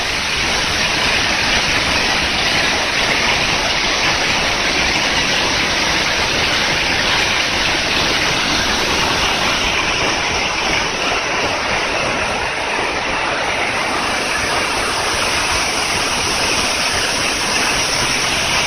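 Twin waterfall at Jagir Glagah in Banyuwangi, Indonesia, a loud, continuous roar of falling water that stays broad and steady throughout, heard up close with no voices.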